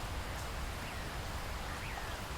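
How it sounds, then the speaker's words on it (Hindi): Heavy rain in a Hindi jungle cartoon, a steady dense hiss of downpour that fills the whole stretch evenly at moderate loudness, with no voices over it. "अरे लाडो, इतनी तेज बारिश में तुम बाहर क्या कर रही हो?"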